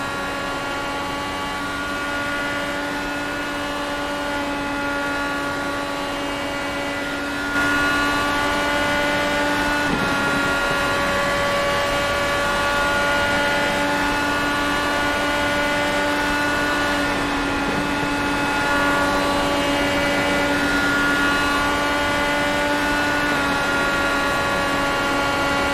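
An IndyCar engine heard onboard during a lap in iRacing, a sustained high-pitched harmonic whine that holds fairly steady and shifts slightly in pitch, loud and close with no talk.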